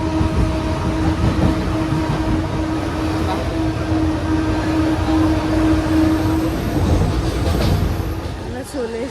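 A moving train rumbles steadily with a low hum and rattling, while voices talk nearby over the continuous noise.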